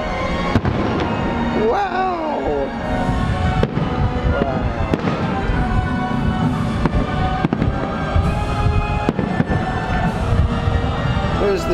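Fireworks over Bay Lake seen from the bridge at Disney's Contemporary Resort, loud booming bursts and crackles firing in quick succession close by, with excited voices talking and exclaiming over the show.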